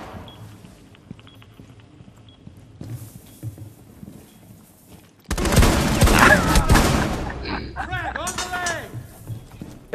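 Gunfire from the video game Rainbow Six Siege in a 5v5 match, with a loud dense burst of rapid shots and impacts in the second half after quieter footsteps and game ambience.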